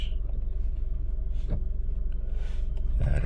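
A rebuilt VW Polo Vivo on its first test drive gives a steady, close engine rumble from inside the cabin, with a few faint clicks and knocks over the drone.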